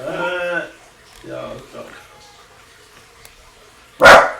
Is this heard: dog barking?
yes